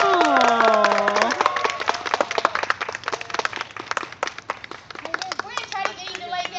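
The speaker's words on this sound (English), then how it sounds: "if y'all can give him a big, big, huge round of applause" A crowd applauds Shadow the dog after he takes a bow during a trick show: quick, scattered clapping, fairly close and lively, with excited voices and a child's squeal at the start.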